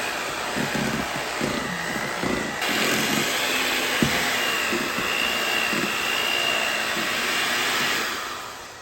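An electric mixer whirs steadily for the whole stretch, blending vanilla and powdered sugar for cinnamon rolls, with a constant close, loud motor drone and no pauses.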